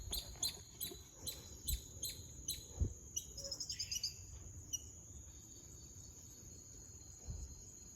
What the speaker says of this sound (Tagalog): Sobrang ganda ng ano, ng tunog ng ibon dito.